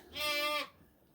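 A single Suffolk sheep or lamb bleats once, a clear nasal wavering cry lasting about half a second, close by in a lambing barn with no voices over it.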